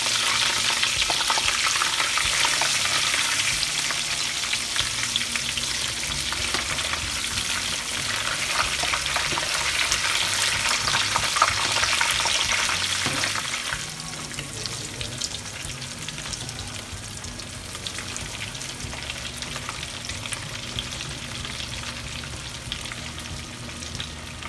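Whiting fish frying in a pan on medium-high heat, a steady dense sizzle that stays loud and then eases to a softer, even crackle, close by with no talking.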